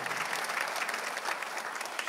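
A church congregation claps during a Korean worship service, producing steady, dense applause that fills the whole stretch without pause.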